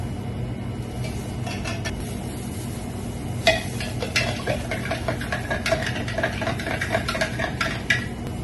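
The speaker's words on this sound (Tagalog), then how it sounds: "combine the lychee syrup with pulp, yogurt syrup, and your 200 ml of tea or water base in a shaker and mix well" Lychee syrup with pulp, yogurt syrup and tea being combined in a shaker, with light clinks, taps and clatter of utensils and containers over a low background hum.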